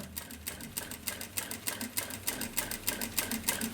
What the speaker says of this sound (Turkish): makinemiz dikiş dikebiliyor.